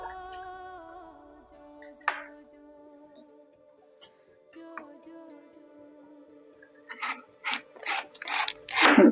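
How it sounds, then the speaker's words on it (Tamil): A knife slices banana stem into thin rounds, heard as a quick run of crisp, close cutting strokes near the end, following quieter rubbing and handling noises over a faint tonal background. "சர்க்கிள் சர்க்கிளா மெலிசா கட் பண்ணிக்கலாம்"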